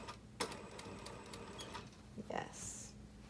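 A sewing machine stitches around a knife-edge bolster, running over a pin, with a soft rapid mechanical ticking and clatter under quiet background noise and a few brief sharper knocks.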